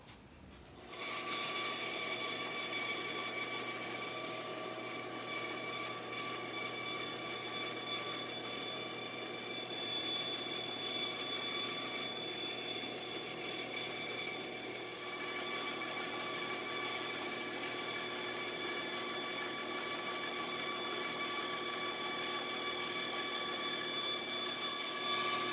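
Bandsaw with a blade damaged by nails cutting thin wood, a steady whining drone with a continuous hum, sustained for the whole stretch, close and alone.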